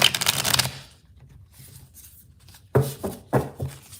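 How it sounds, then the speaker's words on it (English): A deck of playing cards, a fairly new one, gets shuffled in several quick riffling bursts, close and crisp, with quiet pauses between the rustling runs. "So let's go ahead and shuffle."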